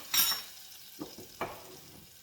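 Butter and flour roux for béchamel sizzling in a pan, with a few short bursts of frying and stirring scrapes spaced apart, close and fairly quiet, no talking.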